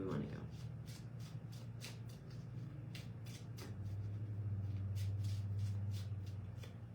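Tarot cards are shuffled and pulled in a steady run of soft, crisp riffles and slaps, close up and fairly quiet, over a low background hum.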